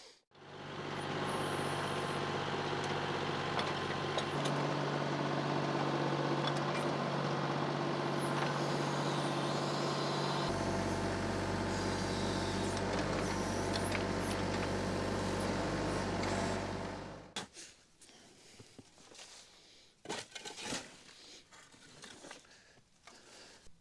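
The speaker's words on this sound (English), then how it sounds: "So the backhoe is really the only way to dig it right now." A backhoe engine roars loudly and steadily while digging a trench through hard, dry clay for a propane gas line, its pitch shifting under load before cutting off into scattered clanks and knocks.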